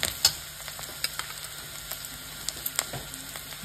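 Onions fry in a pan for an Assamese-style mutton kala bhuna curry, a quiet steady sizzle broken by soft scraping clicks of a spoon stirring.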